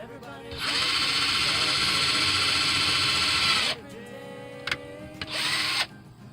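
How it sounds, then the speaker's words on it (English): A power drill whirs loudly for about three seconds boring through folded-up curtain fabric, stops, then gives a couple of short bursts and one more brief run. "drill a hole straight through it, you're ready to go."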